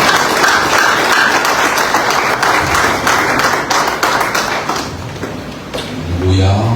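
A church congregation claps and cheers at a doctor's ordination service, with steady, full applause filling the hall and voices calling out beneath it before it fades.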